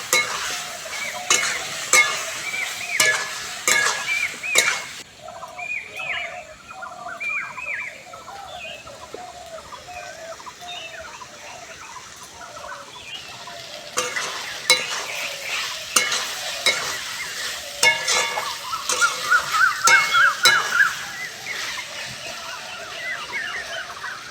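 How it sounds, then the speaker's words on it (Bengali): Chili powder and turmeric frying in oil in a pan for ghugni curry, with steady sizzling and repeated scraping stirs. The clatter comes in clustered bursts over a constant crackle, close and fairly loud, with no talking. "লঙ্কার গুঁড়ো হলুদ ভালো করে কষে নেবো"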